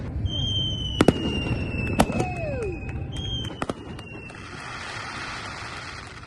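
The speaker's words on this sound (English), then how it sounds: "The fireworks sounds were great" Daylight fireworks send-off as a cruise ship leaves the dock near Mount Fuji, Japan: several sharp bangs and whistling streaks over steady wind and water noise, then a hissing, crackling fizz.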